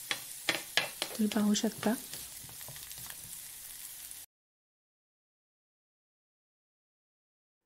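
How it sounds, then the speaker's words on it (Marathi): Spring onion greens fry in hot oil with a crackling sizzle and a few sharp stirring clatters, fairly close and moderate in volume, while a person talks briefly, then the sound cuts to silence. "आता प्रॉपर त्याच्या तेलामध्ये मी मस्तपैकी सगळं भाजून घेणार आहे"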